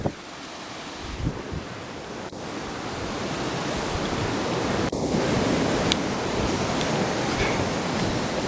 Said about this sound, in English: There's a waterfall down there too.